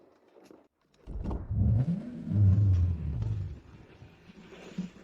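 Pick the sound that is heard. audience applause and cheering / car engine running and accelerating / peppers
car engine running and accelerating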